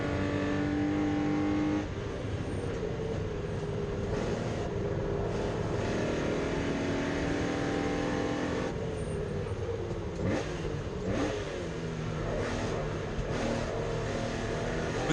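A race car laps the Oulton Park circuit while chasing a TVR, its engine loud and sustained, with pitch rising and falling through gear changes and corners.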